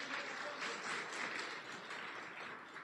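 Audience clapping at a Data Fest Minsk 2019 conference talk, a steady continuous patter of many hands throughout, moderately loud, with no voices over it.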